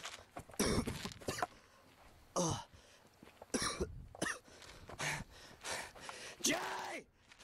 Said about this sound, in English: The cough seemed so real because it was.